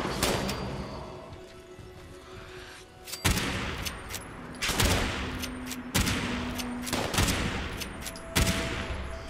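Gunfire erupts in Fallout 76 near a waste disposal site, with sharp, loud shots coming in irregular bursts every second or two over a background of ambient game sound.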